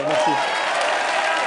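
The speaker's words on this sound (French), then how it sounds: "Je crois qu'on peut applaudir." Studio audience applause on a live French TV news-magazine broadcast, a dense steady patter of clapping with a voice briefly rising over it at the start.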